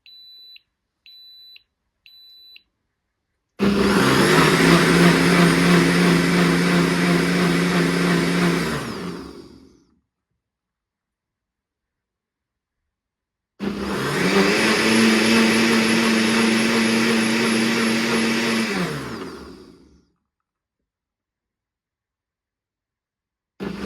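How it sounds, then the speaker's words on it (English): A Ninja blender and soup maker runs its cleaning cycle after a few short beeps, with two long loud motor whirs that each spin up, hold steady and wind down to silence, separated by a quiet pause. "it should just really spin it for the last 30 seconds and clean it up"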